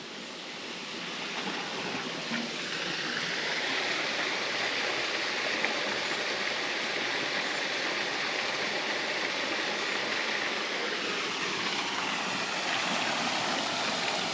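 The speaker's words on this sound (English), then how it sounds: "And we have a nice little waterfall they created." Steady, rushing splash of a small artificial waterfall in Monte Palace Botanical Gardens, Madeira, continuous and fairly close, with no voices.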